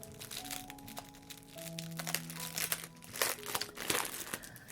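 Plastic packaging for a 3D puzzle crinkles and crackles as it is opened with a knife, in irregular bursts of close, quiet rustling, with no talk.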